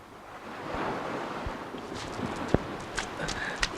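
Hooves of a horse clip-clopping in a fantasy film scene, a few sharp separate knocks standing out over a steady windy, surf-like background roar.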